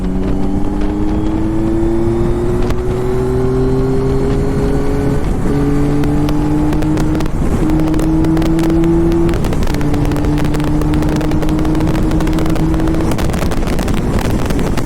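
A Yamaha Tracer GT9+ motorcycle with panniers droning steadily at speed on the road, its engine note climbing and then briefly dropping through several quick gear shifts, with constant wind rush throughout.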